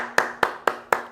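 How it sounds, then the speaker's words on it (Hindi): Four sharp hand claps ring out in an even, steady rhythm, fairly close and moderately loud, offered as applause for a student in an online chemistry class on the mole concept. "देवकी, वेरी गुड बच्चा, शाबाश, तालियां देखो आपके लिए"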